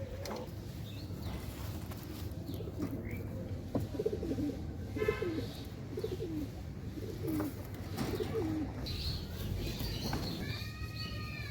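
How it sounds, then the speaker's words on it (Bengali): Pet pigeons, some of them sick with a cold, coo softly in a series of low throaty warbles over a steady background hum, with a faint chirp near the end and no talking. "এই যে হইতেছে কবুতরগুলো"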